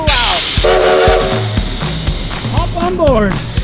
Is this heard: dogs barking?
no